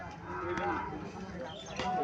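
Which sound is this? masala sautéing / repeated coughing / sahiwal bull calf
sahiwal bull calf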